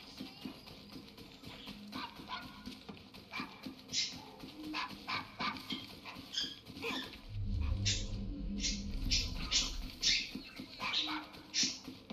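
A dog in the video game Assassin's Creed Syndicate gives a run of short, sharp barks and whimpers over a low rumbling game background, close and moderately loud.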